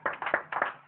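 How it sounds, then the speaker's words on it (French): Short bursts of scattered clapping from a small church congregation, a few quick rhythmic hand claps in uneven clusters, fairly close and without talk. "Applaudissons pour le Seigneur Jésus."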